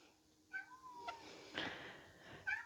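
A cat meows a few times at a distance, thin drawn-out cries over a quiet room hiss.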